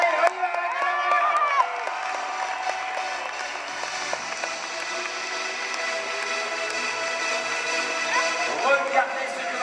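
Arena crowd at an indoor motorbike trial event in Metz cheering and whooping steadily for a rider, a continuous loud roar with shouts rising above it.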